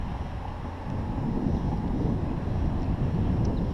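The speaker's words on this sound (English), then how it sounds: "This wind is crazy" Wind blowing across a Houston bayou during bass fishing, a steady low broadband rumble and buffeting on the microphone that holds at a constant level for the whole stretch, with no voices.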